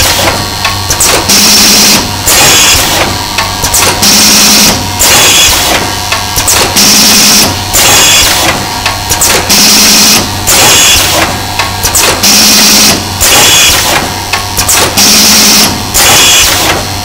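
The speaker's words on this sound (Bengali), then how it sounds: "প্রোডাক্ট ছাড়া আমরা মেশিনটা অপারেশন করছি।" A paper cone making machine runs empty with no material fed through, producing a steady mechanical hum with a repeating rhythmic clatter and hiss roughly every second and a half, loud and close, with no talking.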